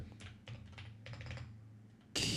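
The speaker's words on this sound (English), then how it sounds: "Like polished, smooth, heavy ceramic keycaps, like the ones that like your mug's made out of." Typing on a keyboard fitted with heavy, polished ceramic keycaps gives a quick run of close, crisp clacks, ending in a louder burst of noise.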